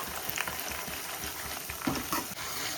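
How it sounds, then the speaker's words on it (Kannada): Chana dal and urad dal frying together in oil on low flame, a soft continuous sizzle with light stirring scrapes, close and fairly even. "ಉದ್ದಿನಬೇಳೆನೂ ಇದ್ರೊಳಗಡೆನೆ ಹಾಕೊತಿದ್ದೀನಿ. ಎರಡು ಸ್ವಲ್ಪ ಫ್ರೈ ಆಗಬೇಕು."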